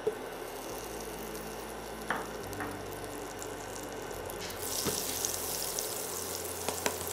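Butter melting in a pan over medium heat gives a steady low sizzle with a few soft clinks, growing a little louder and brighter toward the end.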